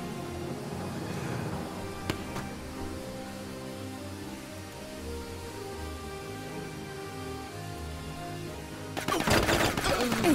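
Distant bursts of gunfire in the video game Silent Storm crackle faintly against a low steady rumble, ending in a louder, denser volley of rapid shots.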